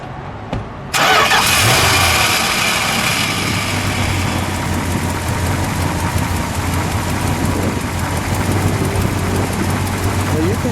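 A 1968 Chrysler 300 two-door with a 440 V8 cranks briefly and fires up, then settles into a loud, steady, smooth idle that carries on to the end, with voices now and then.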